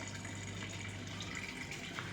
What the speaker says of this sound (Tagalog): Diyan po kami nagre-refill ng tubig.